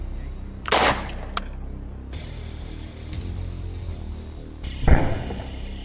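Two loud gunshots ring out several seconds apart, armor-piercing rounds fired from a PDW such as an MP7 or P90 at a Soviet 6B3 or 6B5 body armor plate, each a sharp crack with a brief echoing tail.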